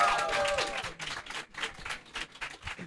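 Studio audience applauding at a French comedy show, a burst of clapping with some whoops near the start, then bursts that ebb and swell across the room.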